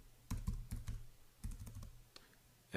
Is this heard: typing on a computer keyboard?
yes